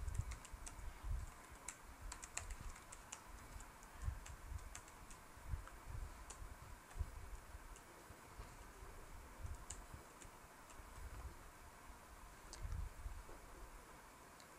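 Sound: typing code on a computer keyboard

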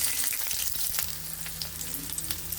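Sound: chopped onion and green chili frying in oil

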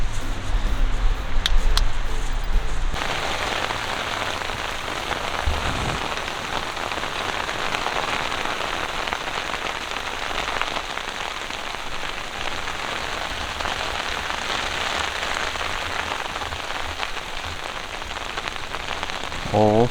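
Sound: rain falling on tent

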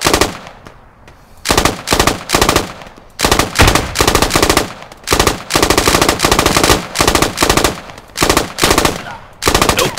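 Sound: gunfire in the video game Squad

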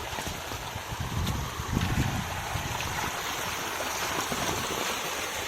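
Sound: stream water flowing

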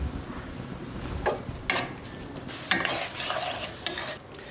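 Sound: sautéing onion with ginger garlic paste

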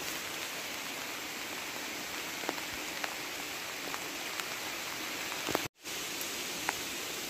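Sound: heavy rain falling at night

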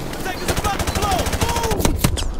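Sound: gunfire in video game Call of Duty: Modern Warfare Remastered

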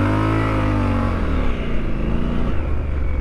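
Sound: Triumph Scrambler 1200XE motorcycle engine revving

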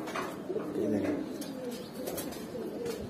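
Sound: pigeons cooing

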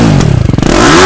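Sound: TVS Apache RR 310 full system exhaust revving with dB killer

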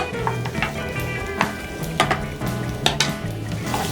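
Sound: radish being stir-fried in sesame oil in a pan

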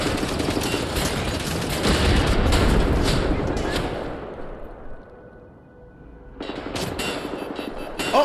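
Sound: turret gunfire in video game Wolfenstein The New Order

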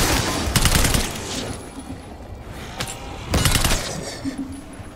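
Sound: gunfire in video game Black Ops 6 Zombies

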